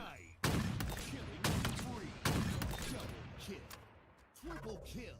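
Gunfire bursts in a Halo match: three loud shots or short volleys ring out in succession, each followed by a decaying roar of further shooting and game effects, with voices audible underneath.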